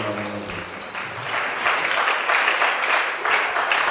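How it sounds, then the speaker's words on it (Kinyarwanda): Church congregation clapping after a sermon reading, scattered claps building into fuller, louder applause over a few seconds, following a brief sung or spoken tone at the start. "Gukomera amashyi ijambo ry'Imana"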